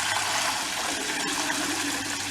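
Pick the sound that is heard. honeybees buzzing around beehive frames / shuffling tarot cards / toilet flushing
toilet flushing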